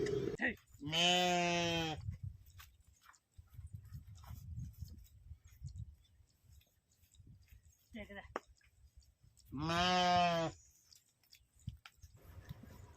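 Sheep on a farm bleat loudly twice while being caught, each call close and drawn out, with faint rustling, clicking and movement in between.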